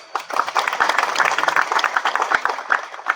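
An audience bursts into applause during a spoken discourse, a dense patter of many hands clapping at a steady level for about three seconds before fading.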